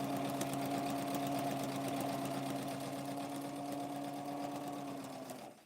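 A sewing machine runs steadily at a constant hum, stitching small curves on a cloth doll, loud and close, then winds down at the very end.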